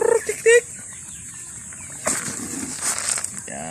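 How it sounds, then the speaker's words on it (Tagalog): Farm chickens being fed cluck in short, close bursts near the start, followed by softer scratching and scattered fowl calls in the background. "Ito pang mga manok. Kain kayo."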